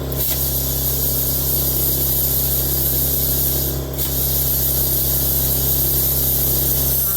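A plasma cutter working through 3/4 inch steel at 80 psi and 50 amps on 220 volts gives a loud, steady spraying hiss over a low electrical hum, briefly dipping partway through before resuming.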